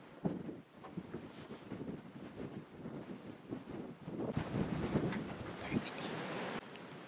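Faint gusty wind rumbles and swells unevenly at a bush campsite on WA's Telegraph Track, rising toward the middle before easing off.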